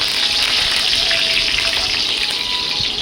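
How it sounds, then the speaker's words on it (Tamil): Curry leaves dropped into hot oil with already popped mustard seeds and fennel, giving a loud, dense, steady sizzle with faint crackles throughout and no talking. "கடுகு பொரிஞ்சதும் கருவேப்பிலை போட்டுக்கலாம்."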